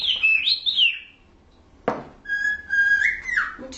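Pet cockatiel calling alone and close, with rising and falling whistles, a sharp chirp near the middle, then a long wavering whistle toward the end.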